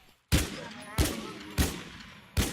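An AA-12 shotgun fires four loud, spaced blasts in the video game Infestation New Z, each with a sharp attack and a short decaying tail, at a steady rhythm.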